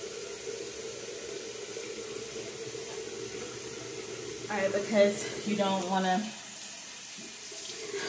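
A tap runs into a bathroom sink as a steady, moderate rush of water, continuing under a person speaking briefly.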